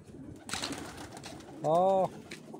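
Pigeons at a loft coo softly near a door being opened, with a brief faint bump and one clear drawn-out coo, under low background noise and a quiet voice.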